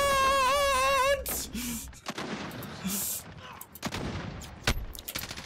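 Gunfire crackles in bursts over a rising siren-like whine, then gives way to scattered close shots and sharp impacts with brief pauses between them.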